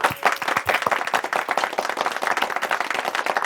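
Hearty audience applause welcoming a youth group on stage, loud and close, with crisp individual claps in a dense, uneven patter that stays strong throughout.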